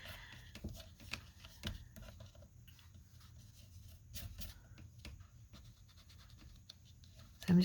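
Soft, quiet scratchy rubbing as a dauber works ink onto the edges of paper, with a few faint taps and brushes spaced out against near silence.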